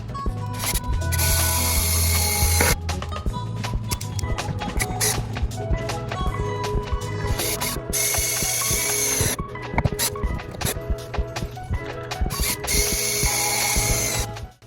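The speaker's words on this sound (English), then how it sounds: "Then I'll pre-drill the 3 holes to screw into the wall." A power drill pre-drilling three screw holes into a wall near vinyl siding, with loud whirring bursts separated by short pauses, close and without talking.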